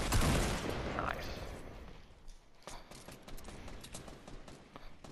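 Gunfire in Fortnite Battle Royale: a loud burst up front, then scattered lighter distant shots crackling through the rest, with players talking over it.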